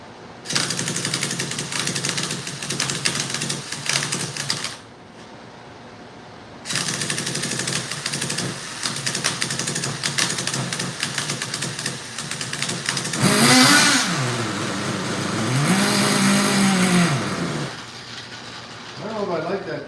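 A small RC model engine running in harsh, buzzing bursts, cutting out briefly and then catching again. It climbs into louder revs with wavering pitch swings near the end, and a voice can be heard at moments.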